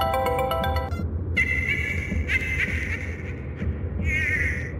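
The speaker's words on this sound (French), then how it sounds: "Quand le téléphone de Bella sonna." A telephone rings as a sound effect in a French audio story, a bright electronic chime that bursts out in repeated tonal pulses over a low ambient bed, with no speech.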